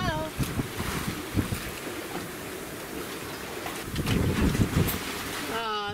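A sailboat under way at night beneath a full moon off Lizard Island, with steady wind rush and washing water running continuously, swelling slightly near the end.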